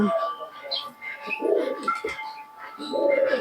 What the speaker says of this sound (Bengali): পায়রা তো দেখেছেন গিরিবাজ পায়রা